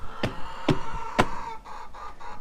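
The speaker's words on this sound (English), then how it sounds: "The chickens are loud. They're talking." Chickens clucking close by, several sharp bursts in quick succession followed by softer murmuring clucks.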